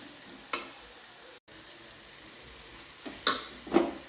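Chilli, coriander and turmeric powders fry with sautéed onions in a pan, giving a soft, steady sizzle broken by a few brief louder stirring scrapes.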